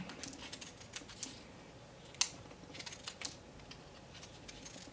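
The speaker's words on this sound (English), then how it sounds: "my right hand is just opening and closing the scissors, and my left hand is turning the circle" Sharp scissors snip repeatedly while a paper circle is turned and cut into petal shapes for craft flowers, producing quiet, irregular clicks and snips close by with one louder snap midway.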